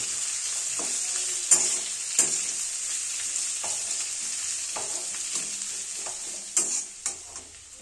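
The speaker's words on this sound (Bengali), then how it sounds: "পেঁয়াজ কুচিগুলো ভালোভাবে মাখামাখি করে নেব এবং একটু নরম হতে দেব" Chopped onion frying with chicken pieces in a pan, about 200 grams of onion to a kilo of meat, a steady close sizzle with scattered scrapes and stirring clicks throughout, no voices.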